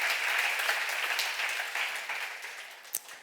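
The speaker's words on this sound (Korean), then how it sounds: "누구든지 그 이름을 믿으면 할 수 있다고 본 사람만 박수해." An audience at a church seminar claps together in a dense, steady burst of applause that holds for a few seconds and then tapers slightly, heard from a moderate distance.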